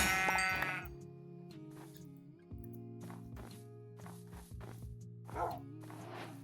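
Sheep bleat in the video game Minecraft: several short, fairly faint bleats come at irregular intervals over a steady tonal game background, with no one speaking.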